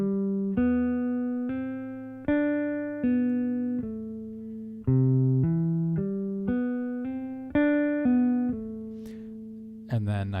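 Electric guitar playing a slow legato lick, clear sustained notes changing one by one in a steady, deliberate rhythm, close and alone, with a brief bright pluck near the end.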